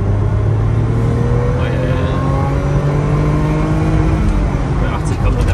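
A BMW E30 320iC pulls at full throttle in second gear, its engine note climbing steadily in a long, loud rising drone heard from inside the car, with someone talking over it.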